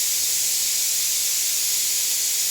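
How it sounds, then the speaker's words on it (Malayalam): A pressure cooker whistle venting steam in a home kitchen, a loud, steady high hiss that runs unbroken from start to finish, with no talking. "പിന്നെയും കുക്കർ വിസിൽ വരുന്നുണ്ട്"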